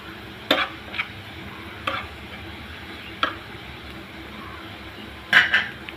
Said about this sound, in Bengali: পেঁয়াজটা হালকা একটু ভাজা হয়ে গেলে এখন দিয়ে দেবো সামান্য একটু মরিচের গুঁড়া।